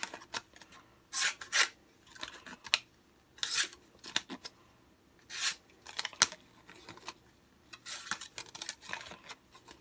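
A small Sanrenmu 4059 pocket knife cutting through material, heard as a series of short, crisp slicing and scraping strokes at an irregular rhythm, close and fairly quiet.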